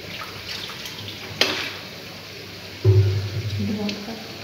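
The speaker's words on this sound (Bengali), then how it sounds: "এবার সব কিছু দিয়ে একটু জল দেব।" Water is poured into a cooking pot of chicken bahar, a short splashing gush heard over a steady background hiss from the stove.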